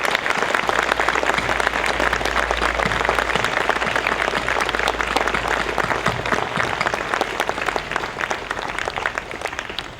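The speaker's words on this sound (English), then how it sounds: "Please join me in recognizing their dedication to us" Sustained round of applause from an audience at a middle school September 11 flag raising ceremony, steady dense clapping filling the whole stretch at a consistent level.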